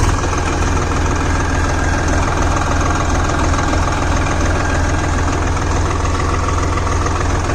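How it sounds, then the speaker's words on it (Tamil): A Swaraj 735 FE side-gear tractor diesel engine idles loud and close, a constant rhythmic low chugging throb that runs unbroken from start to finish with no voices. "பழைய அந்த கிளாசிக் சவுண்டு அப்படியே வருங்க இந்த சுராஜில்."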